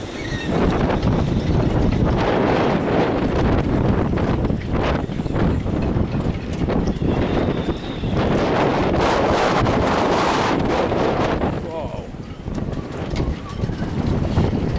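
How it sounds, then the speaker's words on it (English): Strong wind blasts across the microphone at a seaside yacht club on the shore, a loud continuous roar with gusty swells and faint water sounds beneath. "Bit blowy today."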